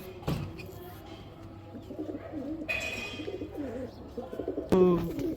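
Pigeons coo in soft, repeated throaty phrases nearby, with a sharp clatter or flap near the start and a louder burst of cooing at the end.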